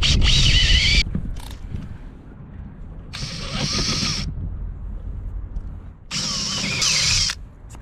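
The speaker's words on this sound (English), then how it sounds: "Because my 5/8 drill is such a beast, I'm going to get this hole started with this step drill." A heavy 5/8 drill with a step drill bit bores a hole, three loud whirring bursts of about a second each separated by quieter gaps, close and harsh with no talk.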